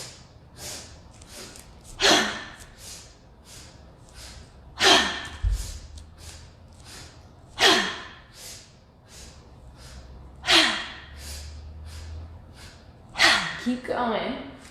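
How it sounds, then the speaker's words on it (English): Quick sniffing breaths in a breathing exercise, a repeating pattern of short sharp nasal inhales followed by a louder breath, recurring about every three seconds, close to the microphone. "So it's 3 sniffs,"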